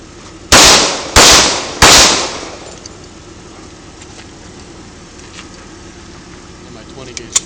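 Three loud, sharp gunshots from a 20 gauge shotgun and a .45 pistol ring out on a Kansas farm about a second apart, each with a decaying echo, followed by quiet outdoor background.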